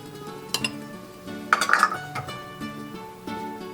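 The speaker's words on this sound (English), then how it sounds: "Let's mix it up a little bit" Olive oil, tomato paste, garlic powder and dry basil being stirred into a tomato sauce in a small bowl, with brief clinks and scrapes of a utensil against the dish, close and fairly quiet.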